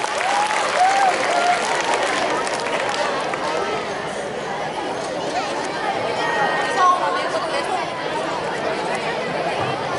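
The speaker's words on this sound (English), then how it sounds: "Audience, give them a big round of applause." A school audience at a Children's Day prize-giving applauds steadily, many hands clapping in a dense, even wash that runs throughout, with crowd chatter and murmuring voices mixed underneath.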